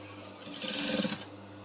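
A sewing machine stitching a corset yoke lining, a short close run of quiet rapid mechanical whirring that swells and fades within under two seconds.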